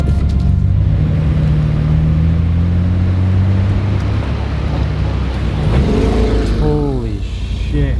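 Street racing cars run a Japanese mountain pass road, a steady, loud engine drone that builds to a rising, revving pass near the end.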